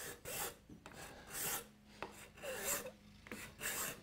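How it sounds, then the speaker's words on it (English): A steel hand scraper drawn across wood, lifting fine shavings and dust: repeated rasping strokes in a steady back-and-forth rhythm, close and fairly loud, with no talk. "I will bend it and go start scraping"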